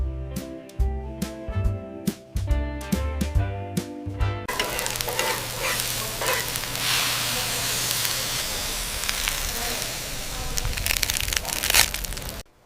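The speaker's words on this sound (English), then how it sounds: "Listen, this batter tells you when it's ready." Batter frying in hot oil at a Delta street food stall, a dense steady sizzle and hiss that takes over after a few seconds of clinking and stirring, holding loud and continuous to the end.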